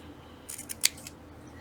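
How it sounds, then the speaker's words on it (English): Scissors trim a piece of paper during a papercraft project, a few short crisp snips close by in an otherwise quiet room. "I'm just going to take my scissors and trim it to what I want."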